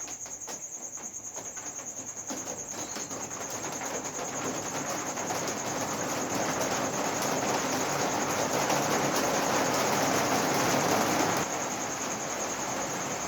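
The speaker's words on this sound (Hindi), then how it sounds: "बारिश बड़ा तेज होने लगा यार, क्या बताऊं, लाइट ना कट जाए।" Heavy rain falling outside during a physics class, a dense steady hiss that swells louder partway through and then holds, with a constant high insect-like whine above it and no talking.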